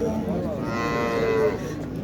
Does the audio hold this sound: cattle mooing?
yes